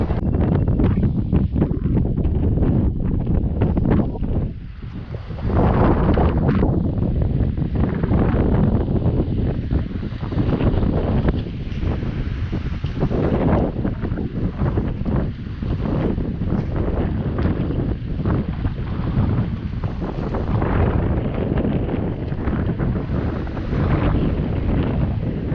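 Strong, steady wind buffets a small boat out fishing on the sea, roaring and gusting nearly without pause across the whole stretch, loud and close.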